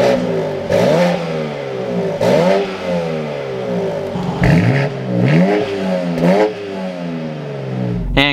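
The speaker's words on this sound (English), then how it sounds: "Let's fire this back up though and take a listen to this X3." A 2024 BMW X3 M Competition SUV engine revs repeatedly in short bursts, each rising sharply then falling back to idle, close and loud, with a final abrupt cutoff.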